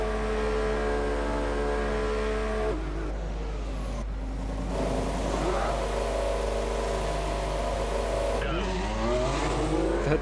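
A Formula 1 car's engine in the F1 2014 racing game at Belgium, a steady high-pitched whine that shifts and rises as the car accelerates, loud and continuous over a constant low hum.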